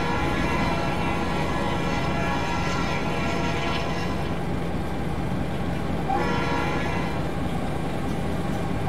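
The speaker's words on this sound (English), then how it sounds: "Somebody just fire up that alco behind me." An ALCO diesel locomotive in the Trainz video game rumbles continuously in a low, throbbing idle. Tonal horn-like blasts sound over the engine drone.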